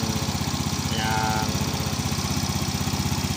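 A Yamaha Fino 125 scooter engine, sputtering and lacking power, idles steadily with a fast, even putter, close by, with a brief higher whine midway.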